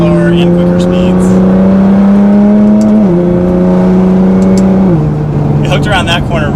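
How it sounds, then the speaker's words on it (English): A Nissan GT-R's exhaust drones loudly and steadily from inside the car as it drives through turns, its pitch stepping down slightly between corners, with someone talking over it. "Man, that exhaust sounds so good."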